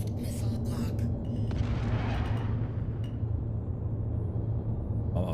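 A missile salvo launched in Star Citizen, heard as a heavy sustained rumbling roar with deep booming low end and a hissing rush at the start that fades out.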